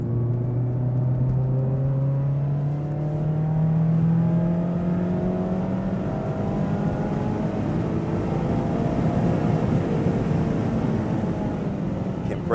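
Mazda ND3 Miata lapping a race track, its engine droning steadily with rising and falling revs through gears, loud and close from inside the car for the whole stretch.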